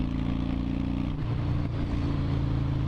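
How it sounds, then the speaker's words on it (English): Motorcycle exhaust note while riding, a continuous low engine drone up close with a brief dip in the middle before it steadies again. "Listen to that exhaust note."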